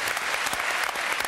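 Studio audience applause fills a French television talk show set, a dense, steady clatter of many hands clapping at close range with no voices on top, holding level for the whole brief stretch.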